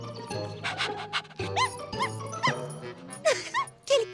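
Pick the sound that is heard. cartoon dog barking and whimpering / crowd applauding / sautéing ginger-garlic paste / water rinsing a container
cartoon dog barking and whimpering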